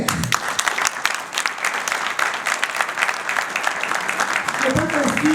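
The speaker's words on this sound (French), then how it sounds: "j'aimerais qu'on puisse applaudir Esther." Steady applause from a crowd at an investment forum fills the scene, dense clapping throughout with a few voices rising near the end.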